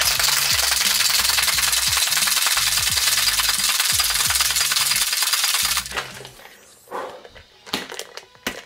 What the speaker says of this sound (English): So what I'm gonna do is I'm gonna shake this. Okay. And we'll shake this for a good 10 to 15 seconds.